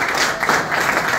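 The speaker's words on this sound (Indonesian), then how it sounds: "Bagi tepukan kepada" Brief burst of crowd applause at a business gathering, dense even clapping from an audience throughout the short moment.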